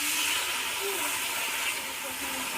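Water poured into vegetables frying in a pan sets off a steady, loud hiss of steam and sizzling that holds evenly throughout.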